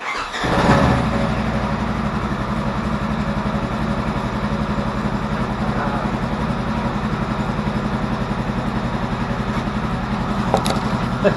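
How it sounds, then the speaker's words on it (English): Engine of a Polaris RZR 900 off-road vehicle cranking to life and then settling into a steady, close, rumbling idle that continues evenly to the end. "turn the bike on and hit that switch"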